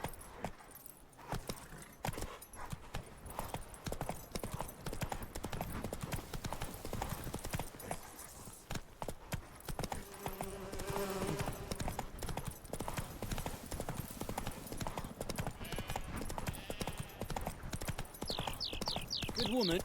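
The horse Roach galloping in The Witcher 3, rapid rhythmic hoofbeats with jangling tack that run steadily throughout, alongside spoken voices and game sounds.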